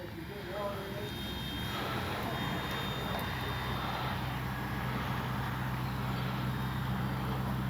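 An RC model FMS Cessna 182 Skylane flies outdoors with a steady electric motor and propeller whine, held at a constant level and moderately distant over wind noise.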